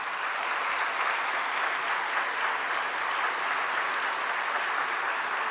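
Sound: audience applause welcoming a film translator

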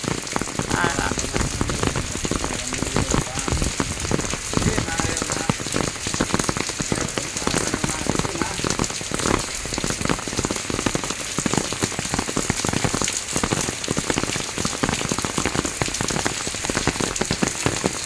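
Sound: rain falling on a surface

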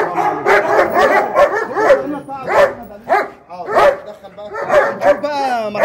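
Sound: dog barking

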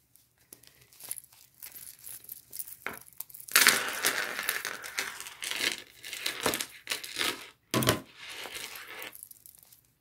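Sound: fabric pouch being turned right side out

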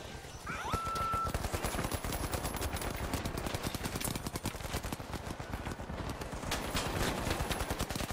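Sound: shotgun gunfire in video game The Finals

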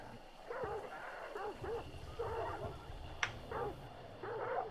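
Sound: triggered dogs barking in Hunt Showdown video game

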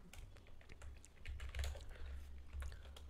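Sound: typing on a computer keyboard

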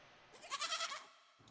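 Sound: domesticated oxen sound effect resembling goat bleats

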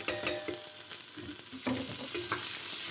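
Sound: barley being stir-fried in hot fat

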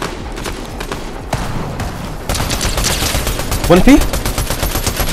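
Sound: assault rifle gunfire in Fortnite video game

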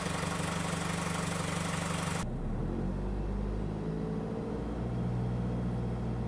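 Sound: car engine running while warming up

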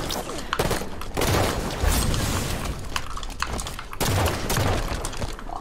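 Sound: gunshots in Halo 5 video game

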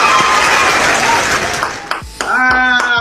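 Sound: applause sound effect played

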